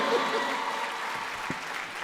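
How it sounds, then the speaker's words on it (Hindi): Audience applause at a poetry gathering for women poets on International Women's Day, a steady wash of clapping from a crowd that fills the short stretch at moderate level. "जोरदार तालियां बजा"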